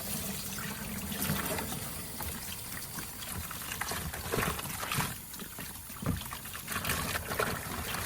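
Water trickles and splashes steadily while a dirty filter from a Pacvac Glide 300 vacuum, soaked overnight, is rinsed clean, a continuous close running-water wash with occasional louder gushes and no talk.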